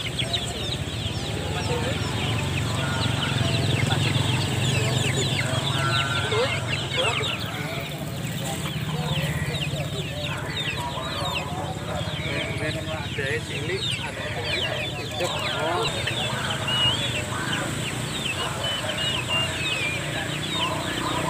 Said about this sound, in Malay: Ayam kampung asli 10 ribuan.